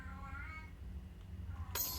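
Pet cat meowing faintly in the background over a low humming drone, a brief soft meow or two followed by a short bright clink.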